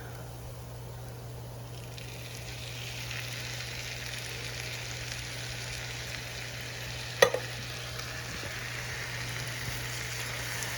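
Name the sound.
Sloppy Joe sauce added to a sizzling pan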